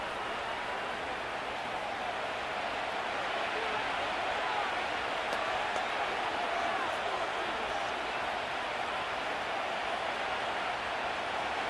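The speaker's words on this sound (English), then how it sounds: "The crowd making their presence felt." Stadium crowd roar from a Madden 25 simulated NFL game between the Panthers and Broncos on PS5, a steady, dense wash of noise sustained throughout at fairly high level, with no distinct cheers or breaks.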